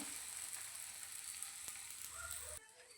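Batter poured onto a hot, oiled griddle pan sizzles and crackles steadily at close range, then the hiss drops sharply to a quieter simmer just before the end, with no speech.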